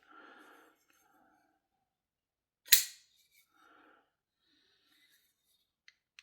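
Kizer KI423 folding knife snapping open, a single sharp, loud click in near silence, with faint whispered talk before and after and two tiny ticks at the end.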